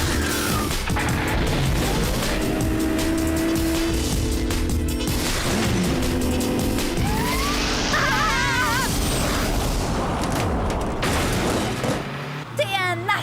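Cartoon car switching into turbo jet mode, a loud continuous roaring rush of engine and whooshing effects under busy music and crashing noises, sustained for over twelve seconds before cutting off abruptly.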